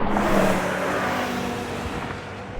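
A BMW M5 with a V10 engine accelerates hard in a drag race against an AMG E55 and an Audi RS6, giving a loud, steady engine roar that holds without a break.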